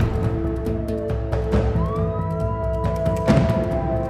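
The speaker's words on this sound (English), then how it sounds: "Sirens. Police sirens?" Police car sirens wail nearby, their rising and falling tones overlapping as several units sound at once over a low vehicle rumble, with no talking.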